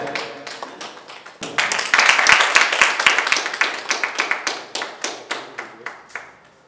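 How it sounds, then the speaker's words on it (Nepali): An audience at a debate competition claps in a sharp burst that swells into dense applause, then thins to scattered, fading claps, with no voices over it. "जोरदार ताली र आदरणीय"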